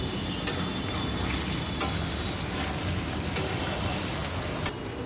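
Peanuts fry in oil while being stirred, a steady dense sizzle with a few sharp ticks of the spoon against the pan spaced through it.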